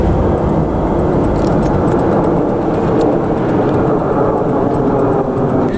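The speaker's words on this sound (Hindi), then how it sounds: "MiG-29 फाइटर प्लेन भी लगातार उड़ान पर निकल रहे हैं" Continuous loud roar of MiG-29 fighter jets flying over Ladakh near the LAC, a dense steady rumble filling the whole clip with no speech.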